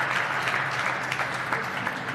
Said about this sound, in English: You could hear the appreciation from the crowd